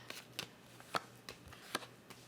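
Tarot cards being shuffled and drawn, a handful of quick, crisp flicks and snaps spaced out irregularly, close and fairly quiet against a faint low hum.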